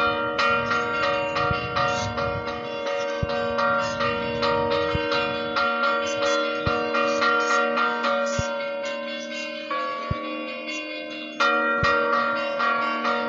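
Church bells ring across a diocese during a solemn ceremony, a loud, steady peal of overlapping struck tones that keep sustaining and resounding for the whole stretch.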